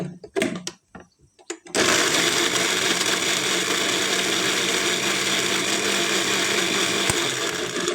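After a few brief knocks, a blender roars to life grinding chilies with water into a chili paste for bamboo shoot curry, a loud, steady motor whir running continuously to the end.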